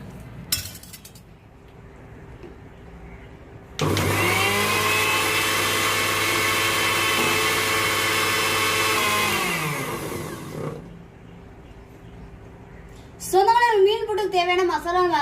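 A loud electric mixer grinder whirs for several seconds grinding a turmeric spice paste, then spins down and stops; brief clinks before it starts and a voice speaking afterward.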